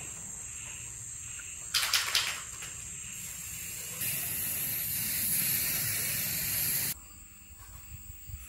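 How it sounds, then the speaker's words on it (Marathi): Spray can of paint hissing onto a Ganesh festival decoration in a Konkan village home: a brief burst of spray, then a steadier hiss lasting about three seconds before it stops, close to the listener. "स्प्रे मारला मी ह्याला आता."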